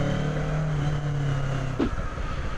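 A Kawasaki Z650 motorcycle engine running steadily with a low, throaty note, then shifting in pitch near the end as the revs change, heard up close with no talk.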